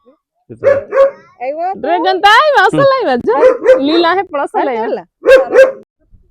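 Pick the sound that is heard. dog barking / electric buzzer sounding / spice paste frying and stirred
dog barking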